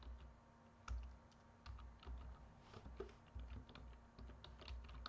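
Soft, quick clicks of typing on a computer keyboard, an irregular patter of keystrokes heard up close at low volume against a faint background hum, with no voice.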